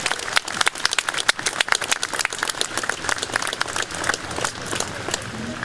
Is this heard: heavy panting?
no